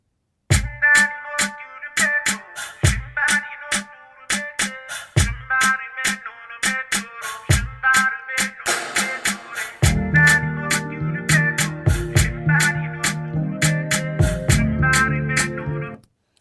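An Indian a cappella vocal sample, pitch-shifted with Neptune into the song's key, sits over sharp rhythmic clicks, then a fuller low layer joins partway through; moderately loud and continuous, with no speech over it.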